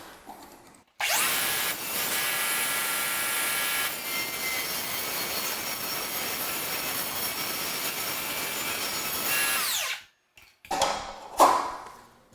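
A table saw rips a board for wainscoting with the blade tilted to a 22.5 degree miter, a loud, steady whine running for about nine seconds before cutting off, with brief clattering afterward.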